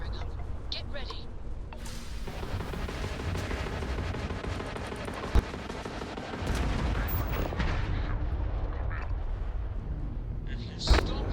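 Spaceship weapons in Starfield open up in a dense, steady barrage of rumbling blasts with a few sharper cracks, loud and continuous throughout, while voices talk over it.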